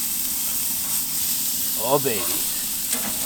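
Steak sizzles steadily on a Big Horn infrared grill, a constant hiss of frying heard close up, while a man's brief exclamation breaks in partway through.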